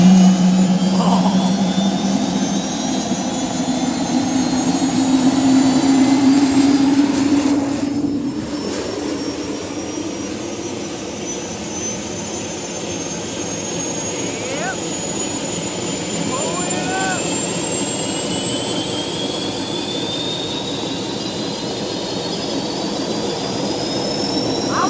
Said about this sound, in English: Sounds like a freaking double jet engine